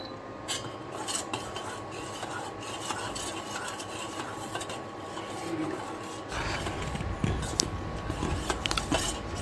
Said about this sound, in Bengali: আমি এটা নাড়াতে থাকবো